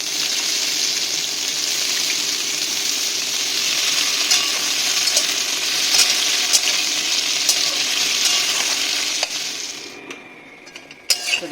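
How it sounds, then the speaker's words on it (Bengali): Pointed gourd (potol) pieces fry in hot oil with a loud, steady, close-up sizzle, punctuated by scattered clicks of a utensil stirring the pan, easing off near the end, with no talking. "আমি এখানে পটলগুলো ভেজে নিচ্ছি"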